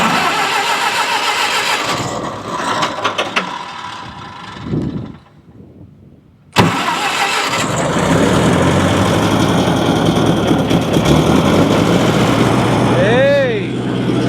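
An old Lindsay air compressor's engine cranks and sputters, goes quiet briefly, then catches and runs steadily and loudly at close range, with a rising whistling squeal near the end.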